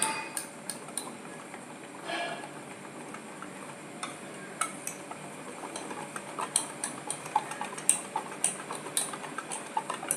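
Dosa batter thinned with water is stirred in a bowl, giving a steady run of light clinks, taps and scraping that grow more frequent toward the end, close and fairly quiet with no speech.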